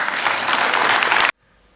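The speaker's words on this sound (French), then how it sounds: "On peut là encore les applaudir." A school ceremony audience gives a short burst of dense, steady applause that stops abruptly. Silence follows.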